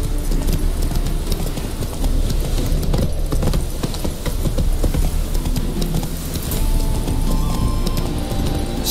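Roach, Geralt's horse in The Witcher 3: Wild Hunt, trots with steady clip-clop hoofbeats that run continuously and fairly loud throughout, over a dense game ambience with no talk.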